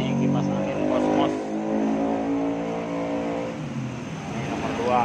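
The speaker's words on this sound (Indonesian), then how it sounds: "Nah, ini kipas angin Cosmos." A Cosmos electric fan runs on its lowest speed setting, giving a steady motor hum with airflow noise throughout, while a person talks over it.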